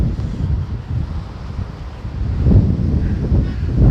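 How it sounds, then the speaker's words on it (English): Gusty wind buffets a phone microphone during an evening beach walk in Sunny Isles Beach, Florida, giving a loud low rumbling roar that swells stronger toward the end, with no talking. "Whoa, it's getting windy. The wind is catching the phone like a sail."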